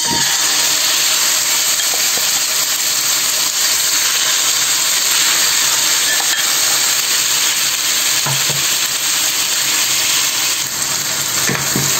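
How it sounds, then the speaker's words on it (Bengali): Steady, loud sizzling of marinated meat frying in hot oil, a continuous crackle with occasional faint clinks, and no voices. "এই ম্যারিনেট করে রাখা মাংসটাকে আমি দিয়ে দেব তেলের মধ্যে"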